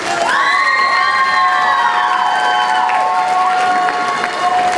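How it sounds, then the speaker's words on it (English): A middle school awards assembly audience cheering and shouting, with children's high-pitched whoops and yells over loud, continuous crowd noise and some clapping, close and sustained throughout. "give a big round of applause"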